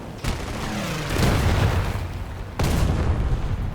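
20mm cannon fire booms from an aircraft in the War Thunder video game, two sharp blasts about two seconds apart over a steady engine drone.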